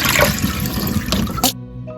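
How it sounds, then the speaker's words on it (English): Water gushes and splashes loudly as a container used to clean nail tools is emptied, then cuts off abruptly into near silence with a faint drip. "I'm just gonna dump out the water."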